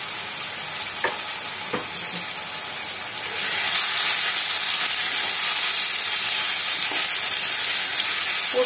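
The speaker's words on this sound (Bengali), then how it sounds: "হলুদ দিয়ে আলুগুলোকে একটুখানি লাল লাল করে ভেজে নেব।" Potatoes fry in oil with turmeric and salt, giving a steady close sizzle with a few faint stirring knocks. The sizzle swells louder partway through and holds.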